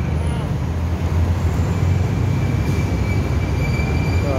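A train rolls along a railway line in Bangkok, a steady loud rumble of wheels on track with faint squealing, heard nearby against general street and traffic noise.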